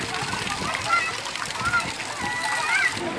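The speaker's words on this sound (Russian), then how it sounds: "Имеется крокодильчик тут с фонтаном в наличии. Он, видите, еще брызгает," A crocodile-shaped fountain at an indoor water park sprays water onto a slide, a steady hiss and splash that continues under children's voices and distant chatter.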